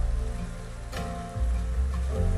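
Steady rain falling in Minecraft during a Halloween night, a soft continuous patter and hiss with low ambient rumble, heard alone at moderate loudness.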